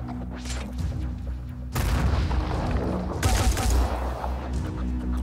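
Grenade blasts in the tactical strategy game Phoenix Point, two loud booming explosions with crackling debris and rumble, the first sudden and sustained, the second hitting a second and a half later.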